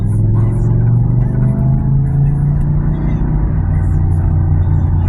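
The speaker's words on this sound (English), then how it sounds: "I love the way this car sounds, man." An older car that is not in top condition idles or cruises with its engine running, a steady, loud, low rumble heard continuously from inside the vehicle for the whole stretch.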